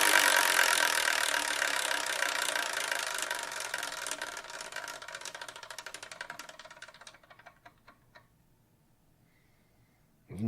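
A prize wheel spun to pick the next manga whirs with rapid ticking that gradually slows, the clicks spacing out until it stops, close and alone.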